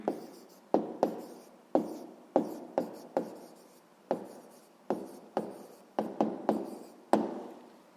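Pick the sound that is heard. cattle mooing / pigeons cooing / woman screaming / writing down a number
writing down a number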